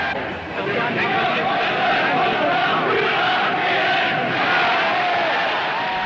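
Crowd of supporters cheering Hitler as he leaves the Hotel Kaiserhof in Berlin, 1933, a dense roaring mass of voices swelling and holding loud throughout.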